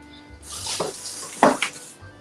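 Cold tap water splashing over thick steak slices in a kitchen sink, a short burst of running and spattering water with a couple of louder splashes, heard close and alone.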